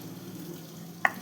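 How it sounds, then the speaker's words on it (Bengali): Jackfruit seeds fry in a pan with a steady, soft sizzle, joined near the end by a single sharp tap or clink. "কাঁঠাল দানা ভাজা হচ্ছে"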